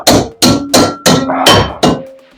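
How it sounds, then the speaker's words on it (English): A hammer strikes the rusty sheet metal of a Mazda MX5 six times in a slow, uneven rhythm. The blows are loud and close, each one ringing briefly before the next lands, with no talking. "hammering noise"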